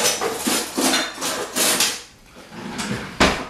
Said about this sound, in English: So now with a spatula, just going to flip it.